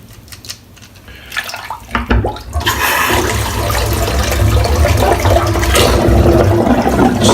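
A Head Blade razor cartridge is rinsed under a running tap, starting with faint clicks and handling noises, then a close, loud, steady rush of water that continues to the end.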